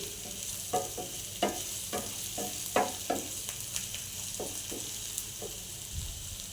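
Onions fry in a pan with a constant soft sizzle, broken by a series of scraping stirs from a utensil at irregular intervals, all close and fairly quiet.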